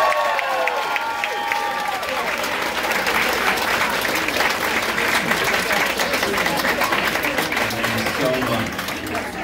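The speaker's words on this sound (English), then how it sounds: "I want you all to give yourselves a round of applause for being here" A packed crowd at a sold-out concert at the Green Room 42 applauds and cheers, dense sustained clapping with voices calling out over it and briefly blending with fading speech at the start.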